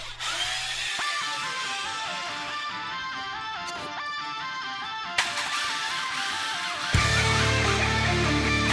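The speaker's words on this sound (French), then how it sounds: "Ensuite, vous pouvez vous servir d'une platine pour commencer à percer." A power drill bores anchor holes into concrete for expansion bolts, a steady loud whine that holds for several seconds, with a brief break and a harsher, heavier grinding toward the end.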